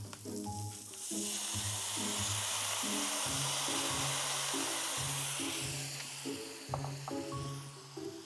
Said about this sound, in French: Là, on va déglacer avec un petit peu de vin blanc